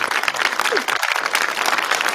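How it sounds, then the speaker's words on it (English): A live-stream audience applauds a guest with a dense burst of clapping that runs for the full two seconds, loud and near throughout with no voices cutting through. "Give her a round of applause"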